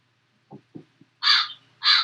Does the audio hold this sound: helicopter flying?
no